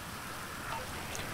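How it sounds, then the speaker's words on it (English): Rain falling in a helicopter combat video game, a steady soft hiss of drops with a few brief bright spatters, fairly quiet and continuous, with no voice over it. "Because now it's raining."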